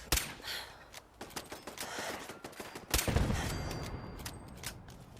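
A hostile turret fires during Fallout 4 play, heard as rapid, fairly faint bursts of gunfire with sharp cracks and a louder volley midway, over a low ambient rumble.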